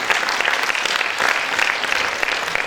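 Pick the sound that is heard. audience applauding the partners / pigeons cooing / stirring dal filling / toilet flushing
audience applauding the partners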